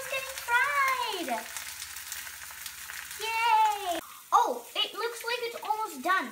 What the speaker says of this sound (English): I'm gonna wait 3 or 4 minutes and get this thing fried.